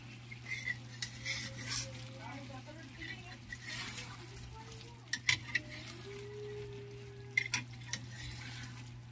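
Tuna sizzles quietly in a frying pan, with occasional clinks of a utensil against the pan and a steady low hum beneath.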